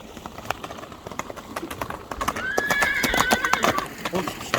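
A tall young horse trots with clip-clopping hooves while people talk nearby, and partway through it lets out a loud, clear whinny over the steady hoofbeats.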